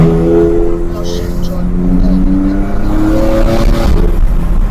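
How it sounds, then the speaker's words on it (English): A BMW F80 M3 engine rises and falls through downshifts at low speed, heard from inside the car as a loud rasping drone with rev changes, while a voice talks over it. "And those downshifts, even at these low speeds,"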